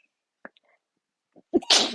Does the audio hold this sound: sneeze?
yes